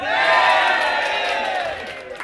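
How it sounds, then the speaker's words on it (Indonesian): A crowd at a BOC Makassar welcome event cheers and shouts loudly in a burst of voices, with little distinct clapping, fading slightly over a couple of seconds. "Tepuk tangan untuk Bro Tesar"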